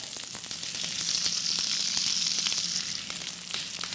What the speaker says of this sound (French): Pendant que le fenouil est en train de saisir comme il faut à la poêle